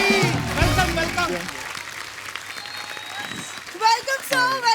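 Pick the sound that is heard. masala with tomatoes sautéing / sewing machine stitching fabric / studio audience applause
studio audience applause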